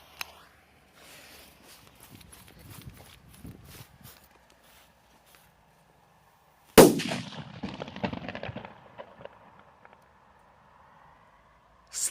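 A Dumbum firecracker goes off in one sharp, loud bang followed by several seconds of crackling debris and rumbling echo, after a quieter stretch of faint rustling and footsteps.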